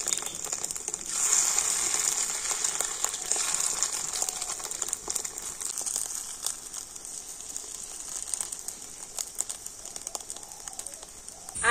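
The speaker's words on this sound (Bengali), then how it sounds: "আর এবারে আমি এই মাছের ডিমটা কিন্তু তেলের মধ্যে দিয়ে দেবো।" Fish roe crackles and sizzles in hot oil in a pan, a steady bright frying hiss with scattered pops that is loudest early and eases gradually, with no talking.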